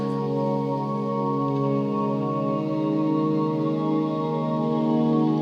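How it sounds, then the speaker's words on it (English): A sustained stereo synth pad sample drifts with layered harmonic tones, while faint clicks and ticks texture the background; steady and fairly loud, no voices. "you can hear the kind of clicks and ticks and noises in the background."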